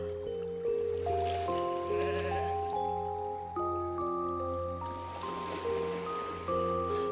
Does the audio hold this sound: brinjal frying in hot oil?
no